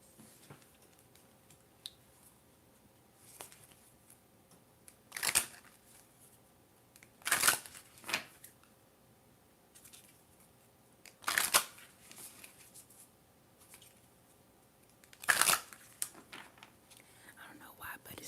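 Moonology oracle cards being shuffled and slid in soft bursts, with several brisk riffling swishes spaced through a quiet, close setting.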